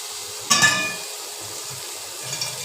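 Slit green chillies sizzle in hot oil in a wok while a Bengali rohu fish curry is cooked, with a steady soft hiss and a brief louder clatter and splash near the start.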